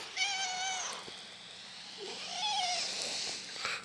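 A farm cat meowing close by, a drawn-out wavering cry followed after a short pause by a second, rising and falling meow.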